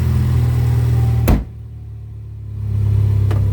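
A vehicle engine idles right after a low pressure fuel sensor replacement on a winter day: a loud, steady low hum that dips after a sharp click, then swells back to full level.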